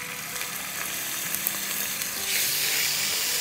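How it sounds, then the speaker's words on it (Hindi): Garlic and ginger paste fry in a hot pan for an eggplant curry, giving a steady, close sizzle with light crackles and spatters that swell slightly near the end. "तो भूनेंगे"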